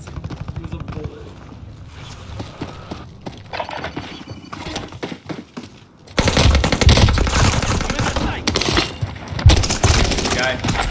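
Gunfire in a battle royale video game: dense, loud bursts of shots and impacts crowd the second half after quieter scuffling and footsteps, with in-game noise throughout.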